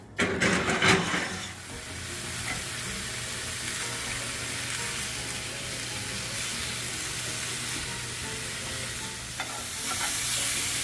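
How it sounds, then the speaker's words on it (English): Chorizo sizzles and crackles steadily in a hot frying pan, with a burst of scraping stirs at the start and no talking. "just continue to brown your chorizo and chopping it as you go"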